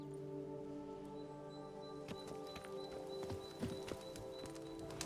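Geralt's horse Roach, in The Witcher 3: Blood and Wine, trots with steady hoof clip-clops over a soft ambient hum, a few sharper hoof strikes standing out near the end.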